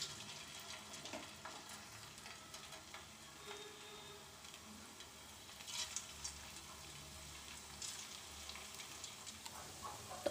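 Chicken and potato snacks fry in hot oil in a kadai, a steady low sizzle and bubbling running throughout with a few brief crackles and clinks, no voices.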